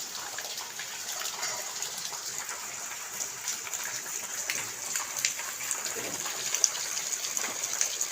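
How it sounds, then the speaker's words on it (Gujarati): Steady hiss of heavy rain pouring down at a village home, constant and dense, with occasional louder splashes and no talking. "ખૂબ પડી રહ્યો છે આ વરસાદ।"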